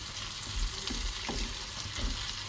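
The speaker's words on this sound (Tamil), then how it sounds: "இப்போ நான் 8 வரமிளகாய் போட்டுக்கிறேன்." Eight dried red chillies, stems removed, frying in oil for a garlic onion chutney, a soft continuous sizzle with a few faint pops, quiet and close, no voices.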